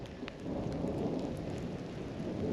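Deep thunder rolls in a long, low rumble over steady rain during a storm on an Oregon Trail tour, swelling after the first half second and holding, with no voices.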